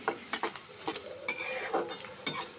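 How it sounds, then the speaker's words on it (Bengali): Onion fries in a pan and is stirred with a utensil: a soft sizzle runs beneath repeated scraping and clinking strokes, close and fairly loud, with no talking. "পেঁয়াজটা আমি একটু লাল লাল করে ভেজে নিব।"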